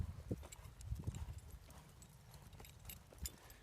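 Horse hooves clip-clop on the ground during a barrel racing lesson, a close, uneven series of thudding footfalls, the horse circling at a steady gait.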